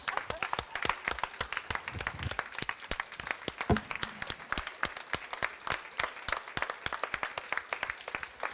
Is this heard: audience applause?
yes